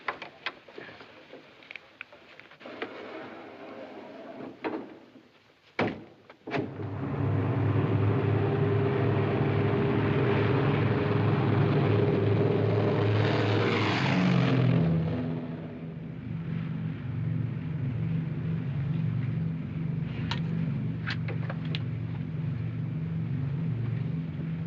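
Propeller airliner in flight from the early 1950s, a steady loud cabin drone with low engine hum that rises and settles into a constant throb, heard alone after a few faint knocks at the start.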